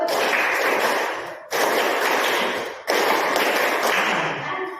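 A class of schoolchildren claps together in a counting clap game, loud, dense, continuous clapping in three sustained bursts with brief breaks between them.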